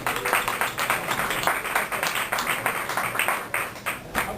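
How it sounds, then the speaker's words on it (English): An audience at an anniversary show applauds, with dense, steady clapping close by throughout and no speech. "You all deserve a round of applause for being here."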